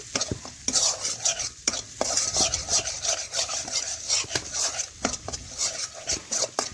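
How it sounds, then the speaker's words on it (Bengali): Spices and a bay leaf fry in a pan while a spoon stirs and scrapes steadily, a continuous close rasping and clinking with soft sizzling underneath and no voices. "তেজপাতাও ভালোভাবে মশলার সাথে একটু ভেজে নিলাম"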